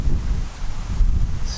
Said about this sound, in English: Apologies for the wind, it's certainly getting up.